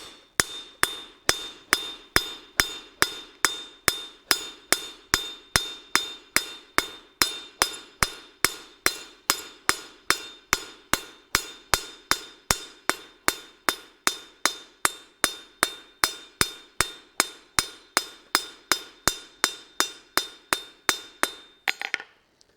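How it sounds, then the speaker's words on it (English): A cross peen hammer strikes copper on an anvil during forging, about fifty crisp, ringing blows at a steady fast rhythm, each bright and metallic, close and loud, stopping just before the end. "So I'll just do that real quick with my cross peen of my hammer."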